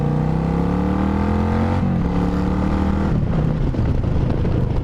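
A Suzuki Marauder VZ800 motorcycle engine pulls hard and close, its pitch rising through one gear, dipping at a shift and climbing again, loud throughout.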